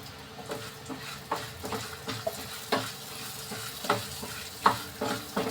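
Dry spices for trotter (goat leg) soup frying on a low flame, a steady soft sizzle broken by a regular rhythm of scraping stirs, close and moderate in level.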